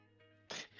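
A single sneeze in a quiet indoor setting: a faint, tonal, voiced lead-in breaks into one sharp, breathy burst, then trails off into a soft exhale.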